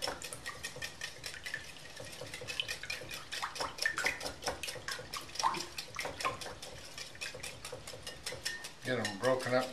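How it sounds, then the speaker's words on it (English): Raw eggs are whisked together in a bowl for an egg strata, a fast, steady run of light metallic clicks and taps from the wire whisk that continues for several seconds, close up, with a brief different clatter near the end. "So you want to whisk these all together."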